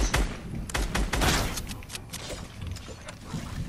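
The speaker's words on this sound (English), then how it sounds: "Nice, gunshots." Rapid bursts of video game gunfire crack and rattle through a firefight, loud and close with dense overlapping shots, some thuds and mechanical clatter mixed in.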